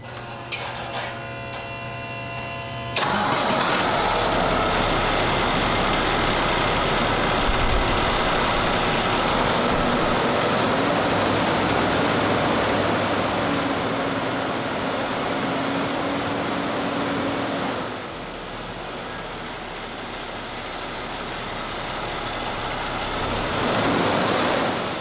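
A Cummins ISX diesel truck engine cranks and fires up, then holds a steady, loud, buzzing drone at raised revs of about 1,300 RPM before dropping back toward idle and climbing again near the end.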